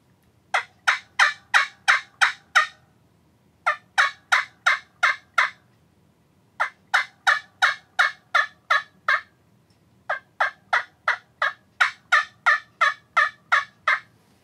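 A wild turkey call made with a trumpet caller gives clear, evenly spaced series of sharp yelps, with four rhythmic bursts of about five to eight notes each, close and alone.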